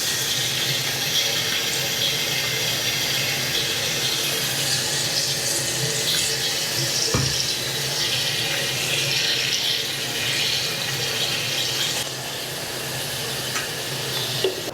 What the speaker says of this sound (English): I'm gonna fill it with hot water up to this higher fill line